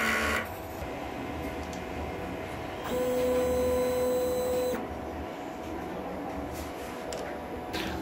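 An inkjet printer runs a print head cleaning cycle, giving a steady mechanical whir with a sustained motor tone that rises for a couple of seconds midway and then settles back.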